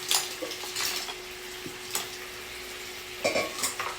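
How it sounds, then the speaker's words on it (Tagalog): Mussels being stirred through a thick sauce in a pot for a Cajun seafood dish, with scattered metallic clinks and scrapes of a utensil against the pot over a faint steady hum, irregular and fairly quiet. "Haluin lang natin hanggang sa malagyan na lahat ng sauce."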